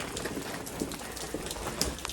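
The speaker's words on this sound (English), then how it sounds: "I love the rain." Spring rain falling in Portugal, a soft close patter of scattered drops pattering on a surface, faint and steady over a short stretch.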